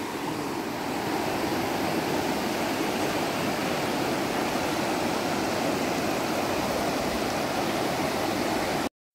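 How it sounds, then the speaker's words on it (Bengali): Waterfall opposite a resort in Simlipal Tiger Reserve, a steady broadband rushing roar of falling water, even and unbroken throughout, heard alone without voices. "রিসর্টের ঠিক উল্টো দিকে এই ঝর্ণাটা ছিল"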